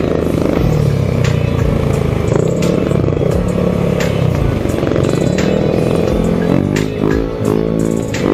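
Motorcycles coming from the south out of Cavite passing on a road, a loud continuous engine roar with revving and a rising, pulsing pass-by toward the end.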